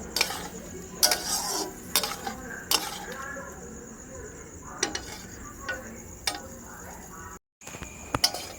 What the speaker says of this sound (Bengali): অল্প জল দিয়ে দেব। ভালোভাবে নেড়ে নেব।